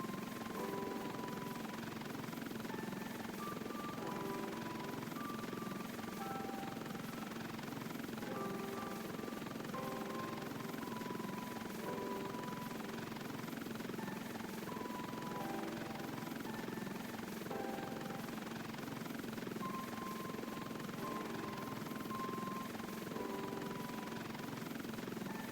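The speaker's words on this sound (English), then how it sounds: "It's too narrow for the helicopter." Helicopter in a Roblox video game: a steady, continuous rotor drone with a low chopping hum and engine whine, level and unbroken throughout, no talk.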